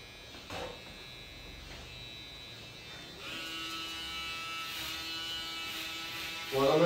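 An electric hair clipper buzzes softly while cutting hair in a barbershop, starting faint and becoming a steadier drone partway through, with brief sounds at the start and end.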